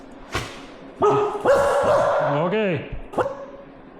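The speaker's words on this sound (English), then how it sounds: "Is that why you're woofing over there?" Shadow the dog lets out a few short woofs and whimpering yips close by at dinner time, while a person speaks briefly between them.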